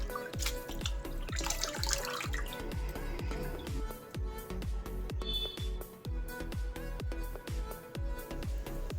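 Water splashes and drips steadily into a basin while goat tripe is washed, a close rhythmic series of sharp drops and trickles with a brief louder pour near the start.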